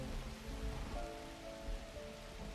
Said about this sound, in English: all I've just done is popped 6 rain clouds over this lake, and the rain clouds are filling the lake back up.